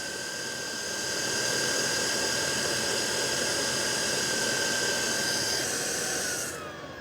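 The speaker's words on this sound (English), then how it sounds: "we just wait for the pump to get everything back filled up" A water pump runs steadily while it refills a pressure tank, giving a continuous mechanical hum with a high whine. The sound swells early, holds level and then drops away as it cuts off near the end.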